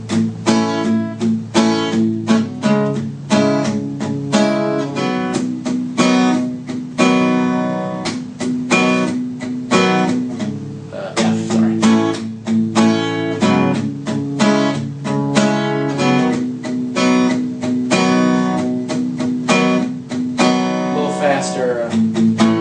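An acoustic guitar strums a steady chord rhythm from a song, played slowly in even, repeated strokes across changing chords, close and moderately loud.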